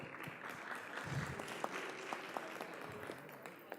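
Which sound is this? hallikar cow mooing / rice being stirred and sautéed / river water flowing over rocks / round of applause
round of applause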